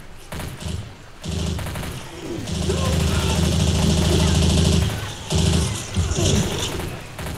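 Rapid gunfire from Counter-Strike-style guns in the Left 4 Dead 2 Death Toll campaign, sustained bursts for several seconds with heavy thumping booms, broken by short pauses, with players talking over it.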